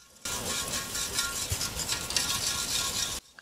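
Loose rust flakes shaken inside the steel fuel tank of a Yamaha Virago 1100 motorcycle, a faint continuous gritty rattle and hiss lasting about three seconds, then stopping.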